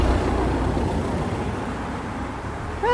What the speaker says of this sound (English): A lot of noisy cars passing by, sorry about that.